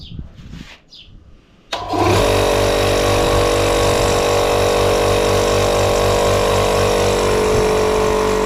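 An air compressor under repair starts up with a sharp onset, then runs loudly and steadily as it builds pressure, its motor giving a continuous, even drone with a faint pulsing hum throughout; quieter handling noises come before it starts.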